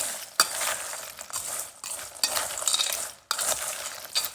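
Dried cherries, chopped dates and apple almond honey granola are stirred together in a bowl, making close, rustling, scraping sweeps in three or four bursts separated by short pauses.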